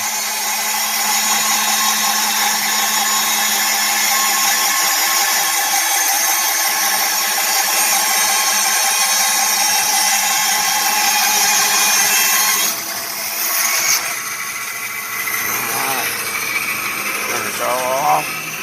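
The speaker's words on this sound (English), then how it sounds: "Got to slow down after a good chunk of oak there." Power saw resawing oak logs gives a steady, loud whine that runs continuously, then slows and changes near the end as the cut eases off.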